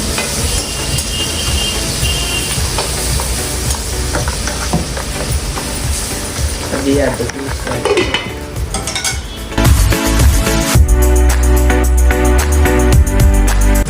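Turmeric being stirred into a sorrel fish masala in a pan, with a spoon clinking and scraping against the metal over a steady frying sizzle, growing louder and busier toward the end.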